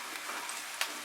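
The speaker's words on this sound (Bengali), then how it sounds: "আঁচটাকে মাঝারি আঁচে রেখে আমি পেঁয়াজটাকে ফ্রাই করে নেব।" Onions frying over medium heat in a pan for a Bengali katla fish curry, a soft steady sizzle with one brief stirring tap, quiet and close.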